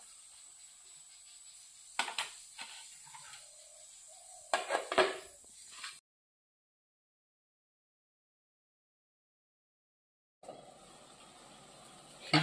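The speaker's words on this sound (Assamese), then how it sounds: "ঢাকন মাৰি দিবানে এতিয়া" A metal lid clatters onto a cooking pot in a home kitchen, with two bursts of clanking contact and a scrape over a steady background hiss, then a stretch of silence.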